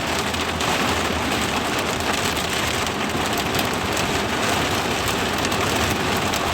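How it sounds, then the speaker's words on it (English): Heavy rain pouring down outdoors, a loud, dense, unbroken roar of drops pelting surfaces at close range throughout, with no voices. "The way this rain coming down, man, ain't nobody gonna hear shit."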